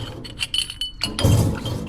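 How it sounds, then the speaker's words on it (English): Metal car parts clink and clatter into a sonic cleaner, a few sharp close taps followed by a louder jumble of rattling pieces settling. "we're gonna just put this stuff all in the sonic cleaner"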